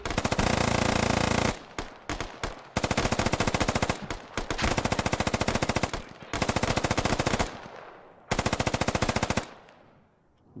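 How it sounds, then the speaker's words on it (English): Assault rifles blind-fire in the Squad video game in long, loud automatic bursts, broken by short pauses and a few single shots, the rapid reports dense and close. "Blind firing here from ARs."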